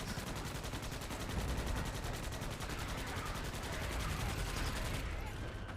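A rapid, continuous stream of automatic turret fire from a video game runs at a steady high rate with no pauses, dense and loud throughout before thinning out right at the end.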